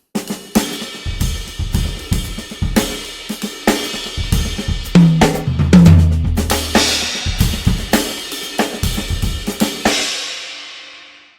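A drum kit played alone, snare figures with hi-hat and ride cymbal, in a busy run of strikes and accents over about ten seconds, ending on a ringing cymbal wash.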